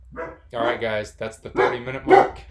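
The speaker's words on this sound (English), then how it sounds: "That's my dog barking, being obnoxious because people are walking by" A dog barks at people walking past outside, heard as repeated barks beneath a man's steady speech.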